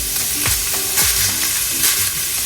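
Day-old rice tipped into a pan of frying hamburger meat crackles with steady hot-oil sizzle, punctuated by a few scraping stirs, close and fairly loud throughout.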